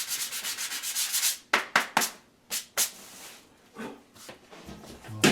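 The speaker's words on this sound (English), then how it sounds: "I'm hoping I can get that extremely smooth by just some sanding" Foam sanding blocks rub over a kitchen cabinet surface being smoothed before painting, a steady run of close scratchy strokes at first, then separate short passes with pauses between them.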